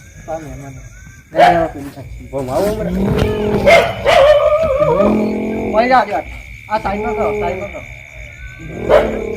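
A person repeatedly imitates a dog's barking in short voiced yelps, mixed with other voices talking and laughing nearby.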